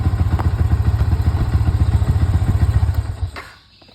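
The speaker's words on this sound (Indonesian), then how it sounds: "kita matikan terlebih dahulu motornya" A Yamaha Vixion motorcycle with an over-voltage charging fault idles close by with a rapid, even, thumping pulse, then shuts off near the end and leaves a brief fading silence.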